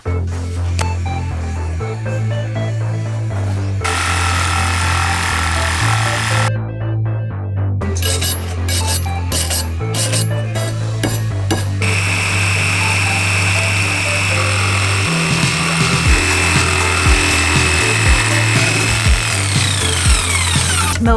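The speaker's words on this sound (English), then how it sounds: "So jigsaw next." A jigsaw cuts wood in a school bus conversion build, its motor buzzing in long sustained runs with a few pauses and rough rasping between passes, close and loud.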